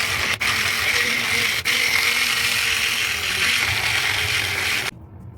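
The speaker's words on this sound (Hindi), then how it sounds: "मैं इसको मिक्सी के ब्लेंडर से इसको ब्लेंड" A kitchen blender blending tomatoes runs at full speed with a steady, loud whirring drone, briefly dipping twice, then cutting off at the end.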